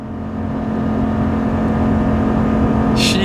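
A RAM 2500 HEMI truck with a ZF 8-speed transmission pulls up a 6% grade while towing, its engine holding a steady, loud drone throughout, with a brief hiss near the end.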